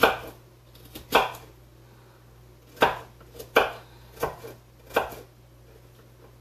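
A knife chops onions on a cutting board for a quinoa salad, about eight sharp, close knocks at an irregular rhythm with quiet pauses between.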